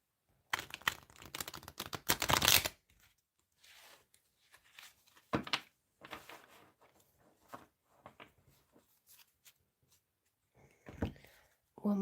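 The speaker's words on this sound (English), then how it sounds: "One more shuffle." Tarot cards are shuffled in quiet, close bursts of papery riffling and flicking, the longest at the start and shorter ones later, with silent gaps between them.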